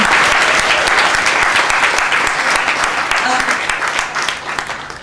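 Applause from an audience at an event supporting young women writers, a dense, loud burst of clapping that holds steady and then gradually thins toward the end, with no speech over it.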